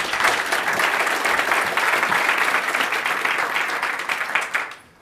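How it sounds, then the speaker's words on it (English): Dense, steady applause from a sizable audience at a tech talk fills the room for several seconds before fading out quickly at the end. "So let's give him a big round of applause."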